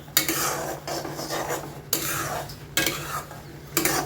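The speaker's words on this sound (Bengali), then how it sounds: "এটা নাড়তে হবে নাহলে তলায় লেগে গিয়ে চুঙে যাবে সুজিটা মানে নাড়তেই হচ্ছে সমানে" Semolina stirred continuously in a pan so it won't stick, heard as repeated rasping scrapes of a spoon across the pan bottom at a steady rhythm, close and fairly loud.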